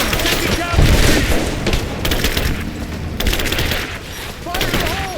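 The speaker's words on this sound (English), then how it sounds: "Throwing a grenade!" Grenade blast and bursts of gunfire in the video game Rise of the Tomb Raider, heavy booms and rapid shots layered with shouting voices and combat noise.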